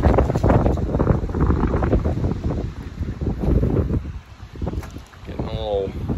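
Breezy wind blows outdoors, rumbling and buffeting steadily against the microphone, with a brief higher-pitched squeak near the end.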